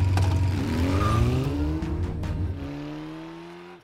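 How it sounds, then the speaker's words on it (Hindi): Car engine revving hard as the accelerator is pressed, a loud close roar with rising, sweeping pitch that settles and fades toward the end. "चला अब एक्सीलेटर दबा।"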